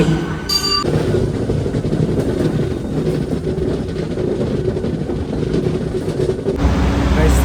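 A train arriving at a station rumbles steadily past at close range, a continuous heavy roar of wheels and carriages with a brief high squeal near the start.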